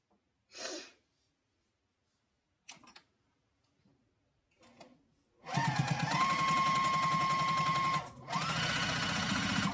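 Sewing machine stitching in the ditch on a quilted zipper case: a few faint breaths and small handling sounds, then a loud steady motor whir with rapid needle ticking for several seconds, a brief pause, and another burst of stitching.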